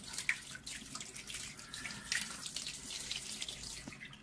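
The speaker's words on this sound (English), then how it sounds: "I will turn the mirror a little bit just to make sure that all corners of it is receiving the water" Tap water runs steadily over a 12-inch SkyWatcher 300P Flextube Dobsonian telescope mirror during cleaning, a continuous close splashing hiss with a few brief drips and clinks, no voices.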